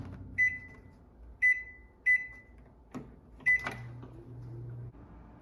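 Microwave oven heating a punctured Sukhi's chicken tikka masala tray on high, with three clear beeps from the keypad as settings are entered, a door thump, then a low steady hum as it starts running.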